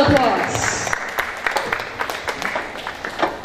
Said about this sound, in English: Everyone please give her a big round of applause.